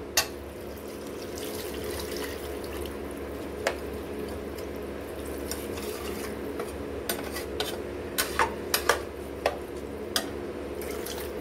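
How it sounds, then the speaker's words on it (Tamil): Water runs steadily into a pot of country chicken biryani, with occasional metallic clinks and taps of utensils against cookware throughout. "தண்ணி சேர்த்துக்கலாம்"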